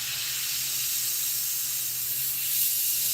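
Spray paint hissing onto a model car, a loud, close, continuous airy spray that holds steady for a few seconds with no talk.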